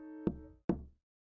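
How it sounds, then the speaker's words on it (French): Two firm knocks on a wooden door, close and evenly spaced, ringing briefly before silence, with a soft musical tone fading behind them. "Il frappa à la porte."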